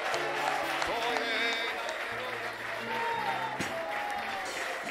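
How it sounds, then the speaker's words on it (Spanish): An evangelical Sunday evening congregation in Barquisimeto, Venezuela applauds in a steady wash of claps, moderately loud and blended with voices and sustained tones. "¿Se merecen los aplausos?"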